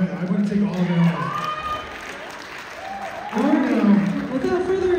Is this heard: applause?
yes